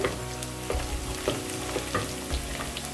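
Onions sautéing with salt in a pan for a ridge gourd sambar, a steady close sizzle broken by a few scraping stirs of a spoon, no voices.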